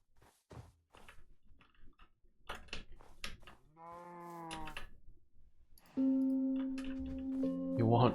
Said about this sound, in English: Well, there are cows here.